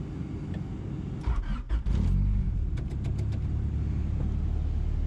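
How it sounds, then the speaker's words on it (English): The H22A engine of a Honda Civic EK cranks and catches on a cold start, revs briefly, then settles into a steady low idle rumble, close by. "So this is gonna be a basic cold start."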